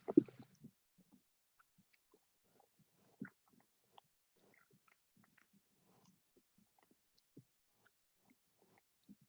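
Acoustic emissions recorded from a Scots pine tree: sparse, faint clicks and soft wet pops scattered irregularly, resembling open-mouthed chewing, with a slightly louder cluster at the start and isolated ticks after.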